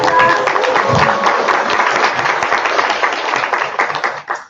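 Seminar audience breaks into applause, a dense, steady wash of many hands clapping close by that holds for about four seconds before thinning out at the end.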